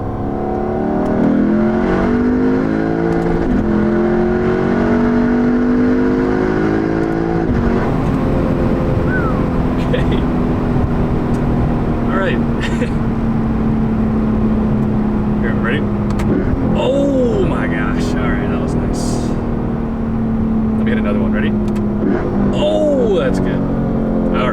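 V8 muscle car in manual mode accelerating hard, a steady loud engine drone with rising pitch sweeps as it pulls through the gears near redline, with people talking over it throughout.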